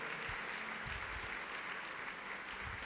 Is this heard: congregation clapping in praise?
yes